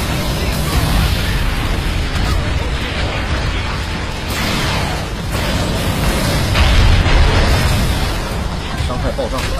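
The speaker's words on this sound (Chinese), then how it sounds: "爆炸！" Explosions in the video game Evolve, loud rolling booms and blasts over a dense bed of game noise, continuous and close, with voices mixed in.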